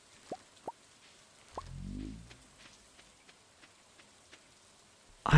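Gentle rain in the farming game Stardew Valley, faint steady patter with soft drip-like ticks, interrupted by a few isolated game plops and a brief rising chime, quiet and close with no speech.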